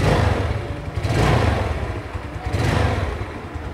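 A Mio Sporty scooter engine idling nearby, a steady low mechanical putter with slight surging swells in loudness.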